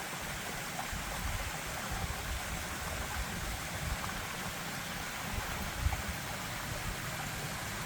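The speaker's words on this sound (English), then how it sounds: "I'm going to fill my water bottle here at the fountain" Water runs steadily from an outdoor fountain in Italy while a water bottle fills, a constant close rushing splash that stays even throughout with no voices.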